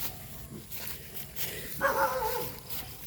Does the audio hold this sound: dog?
yes